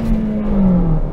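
A car engine held at high revs near 7,000 RPM against a soft rev limiter, a steady loud harmonic drone that sags slightly in pitch as the limiter eases it back, heard close with no talk.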